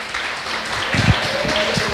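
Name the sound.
church congregation applause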